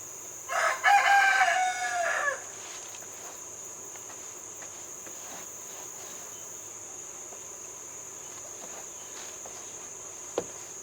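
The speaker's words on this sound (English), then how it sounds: "If this old rooster will be quiet long enough for me to talk" An old rooster on a homestead crows once near the start, a loud drawn-out call, followed by quiet outdoor ambience with a steady high insect or cricket drone and a single sharp click near the end.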